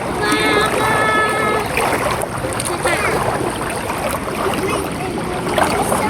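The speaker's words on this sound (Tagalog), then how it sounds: "Yun kung gaano kalakas yung tubig oh." Strong floodwater current rushes past in a steady, loud broadband roar through the whole stretch, with a few faint tonal, voice-like sounds near the start.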